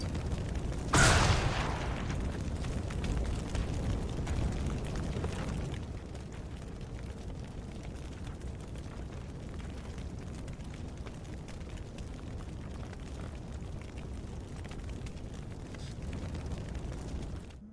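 A frag grenade exploding in the video game Xenonauts 2: one loud, sudden boom near the start, followed by a long, fading rumble and a low steady background.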